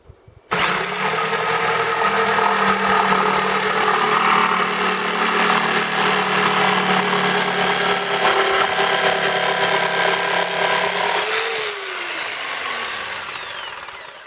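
A jigsaw fitted with a Starrett wood blade cuts through timber in one continuous run of steady whining motor and rapid blade chatter, then winds down as the cut ends.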